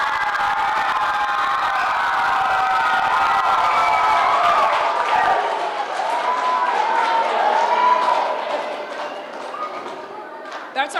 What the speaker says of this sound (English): how about one more round of applause for this monumental event?